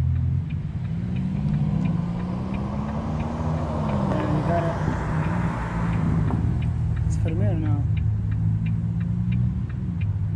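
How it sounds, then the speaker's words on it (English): A Ferrari sports car passing on the road, a steady engine rumble and drone that swells slightly as it goes by, heard amid continuous traffic noise. "Just one Ferrari just went by."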